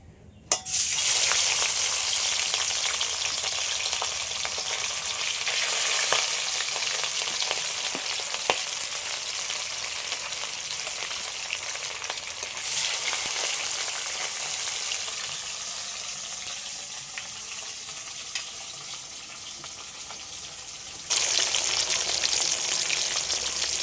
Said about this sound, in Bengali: একটু হালকা করে ভেজে নেব বেশি কড়া করে ভাজবো না ইলিশ মাছ তো কড়া ভাজা করে না